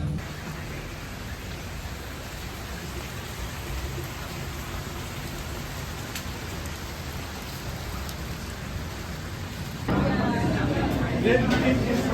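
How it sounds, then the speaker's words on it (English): Steady rain pours down with a dense, constant hiss, growing heavier and closer near the end with pattering drops. "It is the rainiest day. Rainy New Year's."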